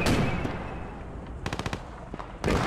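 Tank cannon rounds striking and skipping off a wall in the WWII shooter Post Scriptum, a burst of rapid sharp cracks over a constant rumbling battle din, with a heavy impact closing the sequence.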